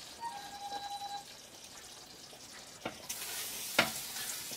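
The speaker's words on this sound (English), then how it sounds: "the oil seems to be nice and hot, so we're just going to throw our chicken on there" Chicken pieces go into hot oil in a home kitchen, a faint continuous sizzle with soft crackles and a couple of sharp pops, the frying hiss brightening partway through.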